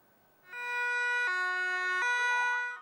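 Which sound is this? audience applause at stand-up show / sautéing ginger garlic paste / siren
siren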